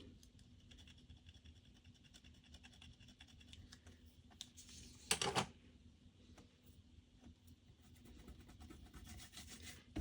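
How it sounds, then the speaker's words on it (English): Excess glue gets scraped off a handmade paper birthday card with quiet rubbing and scratching strokes, faint and close, plus one sharper burst of scraping near the middle. "we'll see if we can scrape that off a little"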